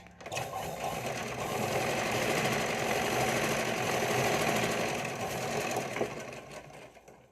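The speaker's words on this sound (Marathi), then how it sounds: "पट्टी आपल्याला आतमध्ये फोल्ड करायची आहे आणि वरतून फिनिशिंग टिप टाकत घ्यायची आहे" Sewing machine running a finishing topstitch along a folded fabric strip on a princess-cut garment front, a continuous close whirring hum with rapid needle chatter, swelling and easing slightly before stopping.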